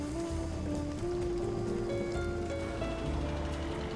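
Steady rain pattering on a surface in a game, a continuous dense hiss alongside low tonal background music, with no talking.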